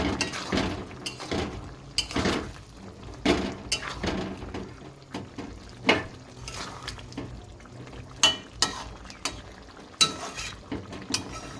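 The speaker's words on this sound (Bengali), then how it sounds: "এবারে মশলাটা দিয়ে খুব ভালোভাবে নাড়িয়ে নেব।" Spices and chopped onion are stirred into kadai chicken in a frying pan: a steady sizzle under repeated scraping strokes and sharp metallic clinks of a utensil against the pan, close and rhythmic, with no talking.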